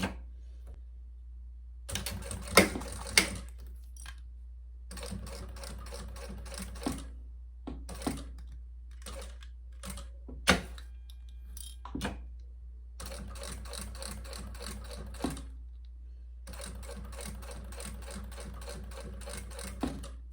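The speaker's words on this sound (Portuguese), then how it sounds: "Então, vamos aqui para costura." A sewing machine stitches a plastic-backed travel bag tag with backstitching at start and end, running in several bursts of rapid mechanical clatter separated by short pauses.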